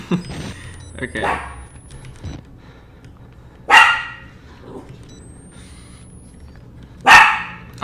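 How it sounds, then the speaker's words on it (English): A dog in the horror game Outlast: Whistleblower barks in two loud, sharp bursts several seconds apart, with a person talking and reacting around them. "Oh my god, dog."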